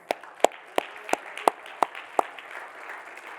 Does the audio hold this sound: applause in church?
yes